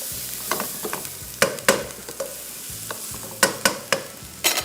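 Onion and garlic fry in a pan with a steady close sizzle, while a spoon repeatedly scrapes and stirs with sharp, irregular clinks. No one is talking.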